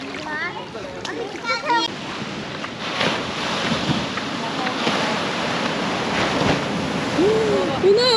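Strong ocean waves at a beach in Da Nang, Vietnam, rushing and splashing steadily under gusty wind buffeting the microphone, with family members talking and calling out close by.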